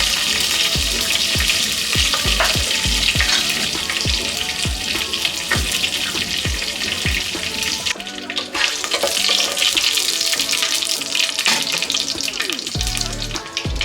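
Whole spices, cardamom, cloves, cinnamon and cumin, sizzle in hot oil in a pan for spinach rice, a loud, steady crackling fry up close with small pops scattered throughout and no voices.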